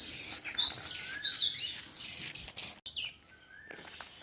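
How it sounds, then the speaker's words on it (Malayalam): Loud, high-pitched chirping calls from a young bird, repeated in quick bursts and sweeping tones, close by with faint insect buzz behind. "കിളിക്കുഞ്ഞിവിടെ ഭക്ഷണമൊക്കെ കഴിച്ചിട്ട് ഭയങ്കര ശബ്ദത്തിൽ ഭക്ഷണമൊക്കെ കഴിച്ചുകൊണ്ടിരിക്കുകയാണ്."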